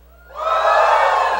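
A church congregation lets out a loud collective shout, rising sharply from near silence and holding as a sustained cheering roar from a crowd of worshippers.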